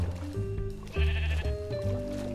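Sheep in the video game Minecraft bleat several times in quick succession, loud and close, each call a wavering nasal tone.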